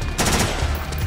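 Gunfire rattles out in Metal Gear Solid 4 gameplay, a dense burst of rapid automatic shots with loud, harsh, broadband cracks across about a second.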